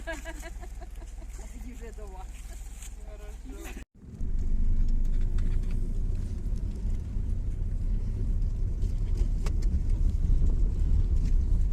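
Car interior on the drive home from a village, a loud steady engine rumble and road noise starting after a door-closing cut, continuous and close throughout; earlier part has clucking chickens and voices outdoors.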